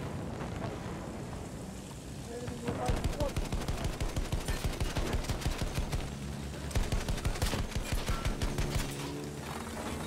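Battlefield 1 gunfire in a battle around a tank and attack plane, with rapid machine-gun bursts of sharp, evenly spaced shots that come in long volleys over a low rumble of wind and engines.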